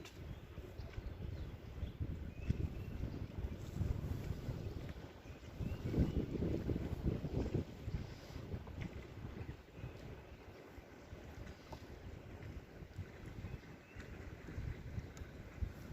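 Wind buffets a fishing boat out on open water in a steady low rumble, with gusts swelling and easing and a stronger surge midway.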